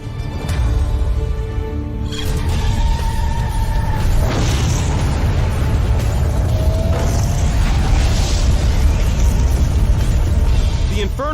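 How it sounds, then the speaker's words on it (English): A tanker car filled with liquid propane blows up after a freight train rams it in a small town on the Texas-Arkansas border, a loud, deep roaring blast that keeps thundering as flames spread, with metallic creaks and no one talking. "In the collision, the tanker car explodes, spreading the fire."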